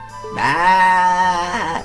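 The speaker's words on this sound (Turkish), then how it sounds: "Dışarıdaki keçi sesinden anladığım kadarıyla bir erkek keçi" A single drawn-out bleat from a male goat outdoors, loud and close, wavering slightly before trailing off after about a second and a half.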